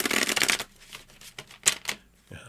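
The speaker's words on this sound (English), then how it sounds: "So let's shuffle these up here." A deck of tarot cards being shuffled by hand: a dense riffling burst followed by several shorter, crisp card flicks, close and clear with no talking.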